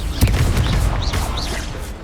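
Confringo spell blasts go off during a duel in the video game Hogwarts Legacy, a dense barrage of booming impacts and rising whooshing magic effects, loud and continuous.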